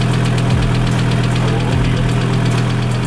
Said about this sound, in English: Why do we have that knock in the engine?